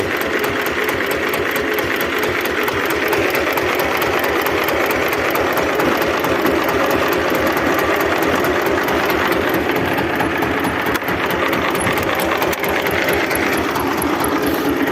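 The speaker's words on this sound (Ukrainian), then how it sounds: "Ось така робота трактора." Loud, close single-cylinder mini tractor engine chugging steadily, a fast rhythmic thumping beat that runs unchanged throughout.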